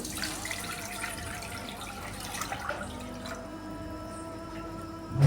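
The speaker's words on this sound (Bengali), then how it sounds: "গ্যাসের উপর একটি কড়া বসিয়ে দিয়েছি এবং তাতে দিয়ে দিচ্ছি আমি জল" Water pouring into a wok set on a gas stove, a steady close splashing stream that runs for several seconds and then tails off, with no voices.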